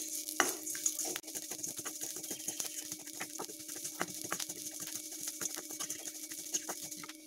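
Onions frying and being stirred in a pan while cooking chicken parotta salna, a steady close sizzle broken by frequent sharp scrapes and clicks of a utensil against the pan, with no one talking.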